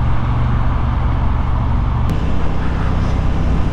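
A Honda Hornet 750 motorcycle cruises on a motorway, giving a loud, steady engine drone and rushing wind noise that stay even throughout.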